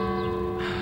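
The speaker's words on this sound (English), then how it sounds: "The bell tolls" A church-style bell tolls in a theatrical Dracula stage show, a steady sustained ringing tone hanging loud and close throughout the short moment with no voices.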